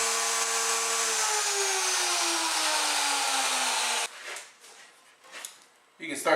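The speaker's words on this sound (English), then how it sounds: "Simply route for one direction and work your way over the high resin." A router working over a raised calcite-and-resin star inlay in wood, a steady loud whine with a slowly falling pitch for about four seconds, then cutting out into quieter scraping bursts before starting up again.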